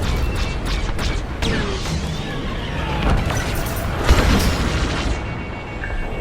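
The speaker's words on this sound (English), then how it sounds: "Watch that missile! They've locked onto my ship!" A missile explosion rumbles and booms through a Star Wars: Squadrons space dogfight, dense continuous roaring noise with a brief louder burst near the end.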